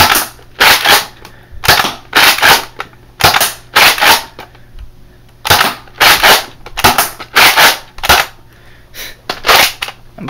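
A Nerf Recon MK 2 blaster fires foam darts in quick bursts, each a loud, close, sharp snapping pop, grouped in clusters of two to four with brief pauses between.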